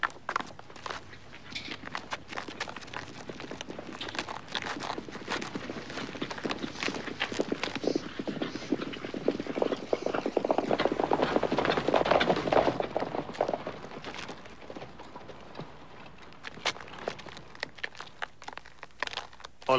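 A horse's hooves clip-clop in a steady walking rhythm on a hard, gritty surface, a continuous train of close, crisp hoof strikes that swells slightly toward the middle.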